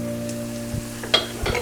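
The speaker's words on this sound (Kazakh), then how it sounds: "Сәбіз бен пиязды 5 минутта екеуі бірге қуырдық." Carrots and onions frying together in a pan for kuyrdak, a steady soft sizzle with a few sharp clicks and scrapes of a utensil, close with a faint constant hum underneath.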